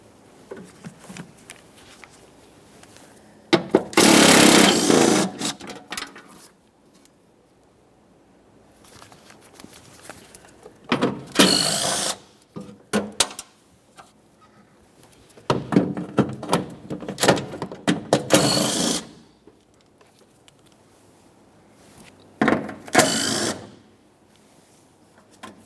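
Bolts with 10mm heads are removed from the upper intake plenum of a 2011-2020 Toyota Sienna 3.5L V6 in several loud bursts of ratcheting, roughly two to three seconds each, separated by quieter gaps with no voices.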